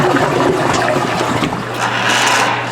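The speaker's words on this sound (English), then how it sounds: "we'll give it another flush" A toilet flushed to test a backed-up basement main drain, heard as a steady rushing of water that holds loud and close for the whole stretch, with a gurgling, trickling quality and no voices.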